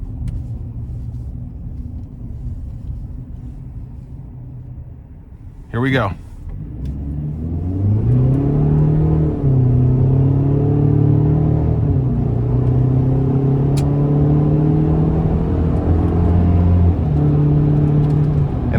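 A 2025 Chevy Silverado 1500 LT Trail Boss pickup with the Turbomax engine pulls away under moderate throttle, its engine note rising and holding in a steady, loud rumble, heard from inside the cab after a brief spoken line.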